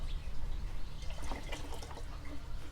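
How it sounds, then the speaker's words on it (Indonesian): Leftover fungicide solution is poured onto the potting soil of a caladium plant, making a continuous splashing, trickling pour that stays steady and close for the whole stretch. "langsung saja kita siram sampai medianya benar-benar basah"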